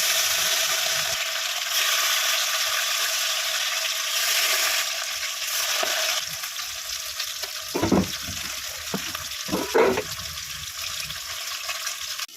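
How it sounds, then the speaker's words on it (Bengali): Rohu fish pieces, rubbed with salt and turmeric, frying in hot oil, a steady hissing sizzle with a few louder crackling bursts and stirring clatters near the end. "তেলটা গরম হয়ে গেছে, রুই মাছগুলো আমি ভেজে নেব।"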